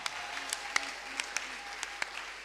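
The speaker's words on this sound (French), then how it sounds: "acclame plus fort pour le Seigneur." Congregation at a church service applauding for the Lord, sparse individual claps and brief bursts over a steady murmur, fairly faint and distant.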